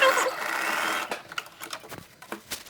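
A domestic sewing machine runs steadily as it stitches a shoulder seam on a vintage-style caftan, then stops and leaves a few short mechanical clicks and handling sounds, close up.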